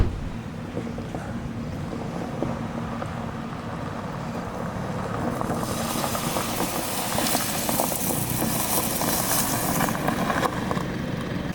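A 2022 Mercedes-Benz C300d diesel sedan, AMG Line with tall alloy wheels and low-profile tyres, rolls along a forest trail, giving a steady low engine and road rumble with wind noise that grows brighter and rougher partway through.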